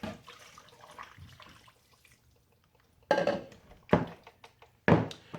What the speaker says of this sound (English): I'm just gonna add a little water, not too much.